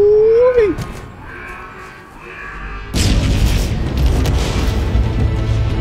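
A loud explosion in Halo Infinite bursts in abruptly partway through, followed by sustained deep rumbling and crackling debris; a brief voice-like tone precedes it in quieter game ambience.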